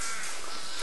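A crow gives a single harsh, raspy caw, loud and close, filling the whole brief moment.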